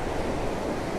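Ocean surf washes steadily onto a fishing beach, a dense, continuous hiss and rumble of breaking water with some wind noise and no talking.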